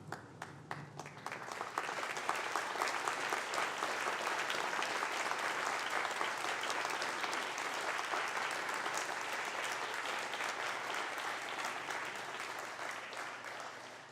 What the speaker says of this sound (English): So would you stand up and applaud those people?